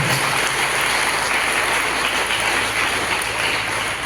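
Audience applause at a music school event, dense and sustained clapping from a crowd filling the whole stretch, loud and even with no talking above it.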